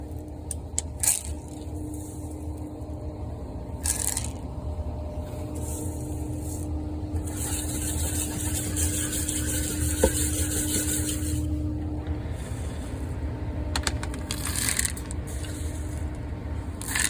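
Dry peas are handled, poured and measured out on a farm during a pea and barley harvest, giving steady rustling, rattling pours with brief louder bursts of spilling, close and continuous with no talk.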